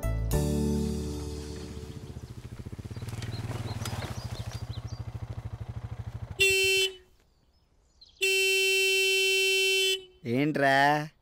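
A vehicle horn in a film scene blares in three loud bursts, a short honk, a longer sustained blast after a brief silence, then a quick final toot, following a buzzy, droning passage.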